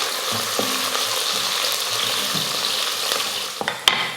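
Onions sizzle and fry steadily in a hot pan, sautéing toward golden brown, with a few scrapes of a spoon stirring and a sharp clink near the end.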